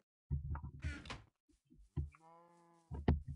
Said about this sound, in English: Got some sheep.